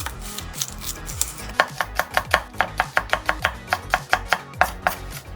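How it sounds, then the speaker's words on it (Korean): A knife finely chopping the white part of a green onion on a cutting board, a rapid run of crisp, evenly spaced taps that speeds up after a slower start, close and clear, no voices. "얘는 파기름 내줄 거니까 조금 잘게 썰게요"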